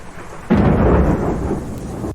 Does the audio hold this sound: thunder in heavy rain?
yes